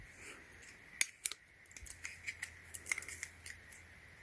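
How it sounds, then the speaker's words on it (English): Scissors snip through a rubber band on a small Tesla Roadster Hot Wheels 1/64 scale RC car, giving a few sharp close clicks and snaps spread over a few seconds in a quiet room. "So I need to cut this rubber band out."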